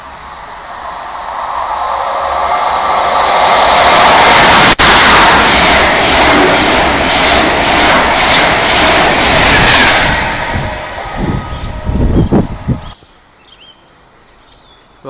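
A London-bound Mark 3 passenger train passes through Needham Market station, roaring loudly and close for about ten seconds with a rhythmic clatter of wheels over rail joints before cutting off abruptly, faint birdsong remaining afterward.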